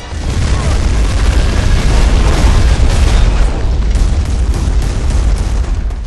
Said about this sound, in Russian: попадание из такой пушки по деревенскому домику превращает здание в груду кирпичей